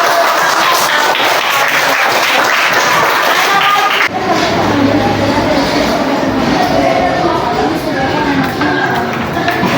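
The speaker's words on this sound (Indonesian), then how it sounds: "beri tepuk tangan" Applause from a class of students after a lesson, dense steady clapping filling the whole stretch, loud and close, with a shift in texture partway through.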